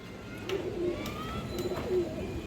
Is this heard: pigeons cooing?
yes